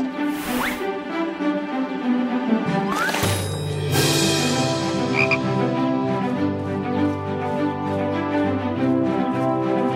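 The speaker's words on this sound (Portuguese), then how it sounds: "Olhem, crianças! Um sapo! Os sapos vivem no brejo." Frogs croak repeatedly in a dense, rhythmic chorus over a steady background, with a brief higher squeak or two near the start.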